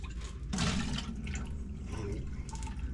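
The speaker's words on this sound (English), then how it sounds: "just swirl that water around" Water sloshes and swirls inside a whole-house water filter housing being rinsed with a little bleach, a close, steady liquid churning with a louder surge near the start and no talking.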